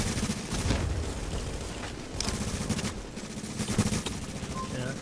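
Rapid automatic rifle fire from a PvP firefight in The Division video game, dense overlapping bursts running almost continuously with brief gaps, loud and close throughout.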